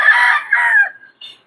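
A rooster crows once, loud and close, a long bright drawn-out call that falls away at the end, followed by a short higher cluck. The bird is from a Blueface breeding line.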